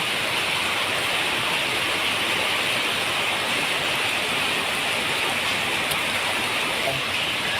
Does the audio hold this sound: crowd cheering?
no